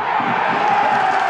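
A rugby crowd of over 4,000 at Connacht v Edinburgh roars and cheers as a try is scored, a loud, dense, continuous wall of voices.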